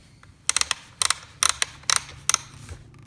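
Grind setting dial on a Secura automatic burr coffee grinder being turned, five quick bursts of close plastic ratcheting clicks, each a short cluster of detents, in a quiet room.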